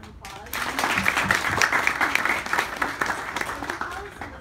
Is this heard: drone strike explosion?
no